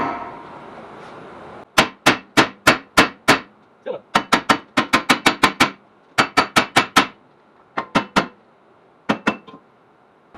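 Heavy hammer blows striking a rusted rear wheel hub on a 2010 Ford Taurus, loud sharp metallic clangs in quick bursts of four to six, with short pauses between volleys.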